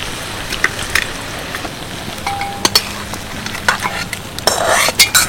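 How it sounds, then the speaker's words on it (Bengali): Braised mutton scraped from a pan into a large 5-litre pressure cooker: sizzling hiss under repeated metallic clinks and scrapes of a spoon, growing busier near the end, with no talk. "এবার এই কষানো মাটনটা আমি এই প্রেসারের মধ্যে দিয়ে দিচ্ছি।"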